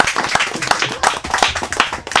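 Audience in a room applauding after a talk-show style program wraps up, dense steady clapping filling the whole stretch with a few voices mixed in.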